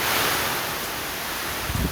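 A strong typhoon gale under Signal No. 4 in Saint Bernard, Southern Leyte rushes continuously in a dense, loud roar, with a low thump of wind buffeting the microphone at the end and nobody speaking.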